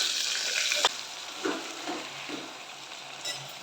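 Vegetable pieces fry in a reddened tempering for sambar, a steady close sizzle with a sharp clack as they go in, followed by a few soft stirring scrapes.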